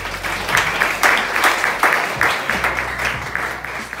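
Chapel audience applauding at a Monday service, a close, moderately loud patter of clapping with uneven bursts throughout.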